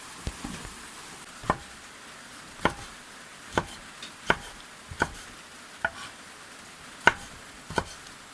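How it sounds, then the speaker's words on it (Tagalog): A knife chops tomatoes and onions on a board for a home-cooked dish in a rural Filipino kitchen, making a steady series of crisp, separate knocks about once a second, close and clear, with no one talking. "Gagayat lang ako din ng mga kabukid ng ano ay, oh, ng kamatis at ano ay, sibuyas."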